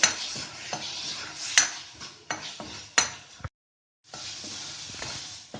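Spoon scraping and clinking against a pan as masala fries with two spoons of yogurt, soft sizzle underneath with several sharp knocks, a brief pause of silence, then the frying resumes.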